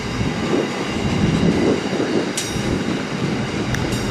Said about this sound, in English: And that's all we've got now is freight trains.